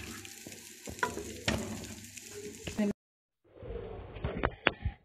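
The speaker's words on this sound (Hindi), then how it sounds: "अब मैंने इसमें ज़ीरा और साबुत काली मिर्चें डाल दी हैं। ये 1-2 मिनट में भुन जाएंगी" Cumin seeds and whole black peppercorns sizzle in hot butter for a Punjabi-style namkeen gosht, a steady crackling fry with sharp spits and pops and a short silent gap partway through.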